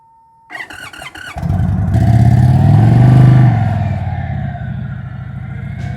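An Indian Chief Bobber motorcycle starts up and rides off, a close, loud engine rumble that builds into a strong rev, then settles into a steady fading drone.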